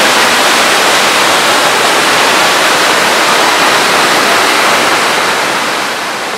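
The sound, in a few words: Bhatta Falls waterfall in Mussoorie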